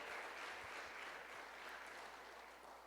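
A church congregation at a Portuguese-language worship service applauds steadily, a dense, even wash of many hands clapping together that stays loud throughout and eases off slightly at the end.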